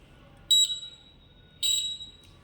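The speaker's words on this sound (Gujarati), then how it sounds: "અને જ્યારે યલો લાઇટ થશે ત્યારે 2 વાર બઝર વાગશે." A school project's traffic-signal buzzer for blind pedestrians gives its yellow-light cue, two short, shrill electronic beeps about a second apart, close and clear over faint background hum.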